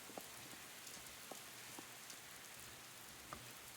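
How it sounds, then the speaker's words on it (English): Steady rain falls in a video game scene, a soft continuous hiss with a few faint individual drops tapping now and then, quiet and alone without talk. "No, it's raining."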